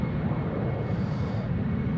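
A KLM Embraer airliner departing Amsterdam Schiphol gives a continuous low, rumbling engine roar, steady and fairly loud with no voices.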